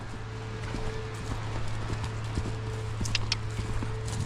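A horse canters during a Welsh-class schooling session, its hoofbeats landing as regular muffled thuds over a steady background hum, fairly close and without any talk.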